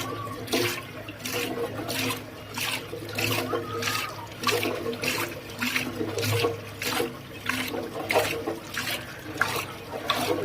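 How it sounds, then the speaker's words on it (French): Water flowing along a channel into a small water mill by the Rhône quay in Lyon, a steady close rush and splash with a rhythmic pulsing churn throughout. "Regardez bien comment l'eau est acheminée"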